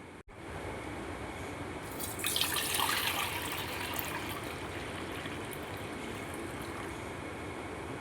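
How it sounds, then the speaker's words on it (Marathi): Water splashes and runs steadily over grated potato chips being rinsed in a kitchen vessel to wash out the starch, a continuous close-up wash with a brief louder sloshing stir partway through. "याला स्वच्छ 5 ते 6 पाण्याने आपल्याला धुवायचे आहेत"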